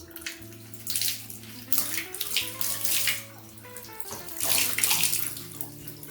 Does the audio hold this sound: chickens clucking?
no